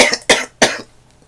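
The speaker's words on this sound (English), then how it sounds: "the reason why I'm coughing right now" A person coughs twice in quick succession, two sharp close bursts with a faint trailing breath, alone with no talking.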